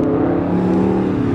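A Dodge Challenger drives past at a car show, its engine giving a steady, loud, low throaty rumble with a slight rev and whir, close by and alone for just over a second.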